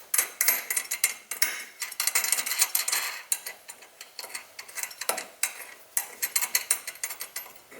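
A nut being tightened onto the bolt of a Nilight light pod mounting bracket, heard as a rapid series of close, sharp metallic clicks and ticks from a ratcheting tool, fairly loud and alone.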